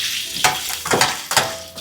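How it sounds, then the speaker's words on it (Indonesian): Onion being sautéed in a pan for a seafood Padang sauce, a steady sizzle broken by a few sharp stirring scrapes, close and alone without talk. "aku mau tumis dulu bawang bombaynya."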